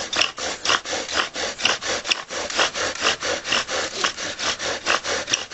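A wooden fire drill spun steadily against a wooden board to make fire, giving a rhythmic, close scraping rub in quick regular strokes that continue without pause.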